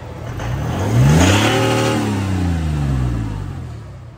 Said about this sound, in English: So that's straight out of the back of the factory DPF with no exhaust system on it.